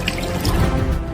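Water from bottles splashes and gurgles into a large pot, a continuous close pouring sound over a short stretch.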